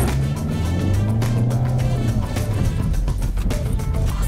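A car on a smooth test drive course, its steady engine drone and road rumble holding continuously and loud throughout, with no talk over it.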